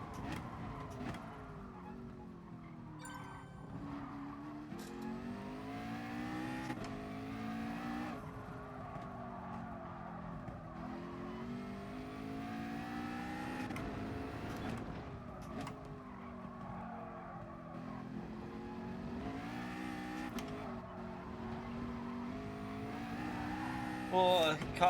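A race car engine in the GT Sport video game howls and shifts through rising and falling revs over a daytime FIA warm-up lap, with occasional tire squeal, steady and prominent throughout.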